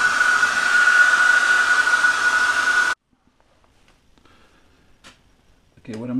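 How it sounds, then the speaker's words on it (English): A hair dryer blows with a steady, loud whooshing hum for about three seconds, then switches off, leaving near silence and a few faint clicks. "Now just let it dry or use a hair dryer."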